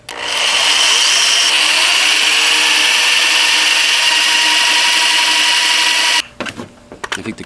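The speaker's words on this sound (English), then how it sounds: "I'm using this stepper bit, and I'm going to take it just down to 11/16 for now" A step drill bit boring into a thin metal can, a loud continuous whining grind lasting about six seconds before stopping abruptly, followed by a few clattering knocks and handling sounds.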